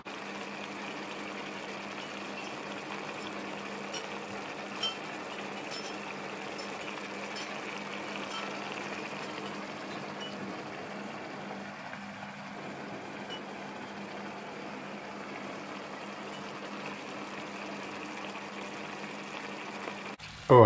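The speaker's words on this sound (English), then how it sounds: "my sauce has been simmering away there for 7 or 8 minutes" Puttanesca sauce simmering in a hot pan, a steady, quiet hiss with a low hum underneath that runs unbroken and without talk.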